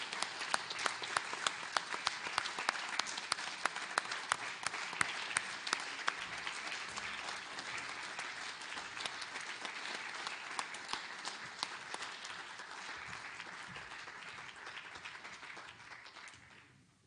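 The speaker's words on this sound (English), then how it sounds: "Let's give our newest Eagle Scout a round of applause." Dense, sustained applause from an audience at an Eagle Scout ceremony, a steady patter of many hands that continues for well over ten seconds before slowly fading out.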